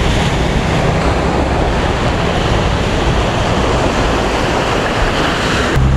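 Loud, continuous roar of surf breaking nearby on a beach at Vung Tau, Vietnam, a broad wash of water noise with wind buffeting the microphone and no voices.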